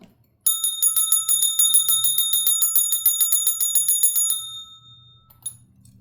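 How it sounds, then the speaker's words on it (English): A bright metallic bell rings rapidly for several seconds, then fades out, followed by a faint final ding. "Let's ring the bell."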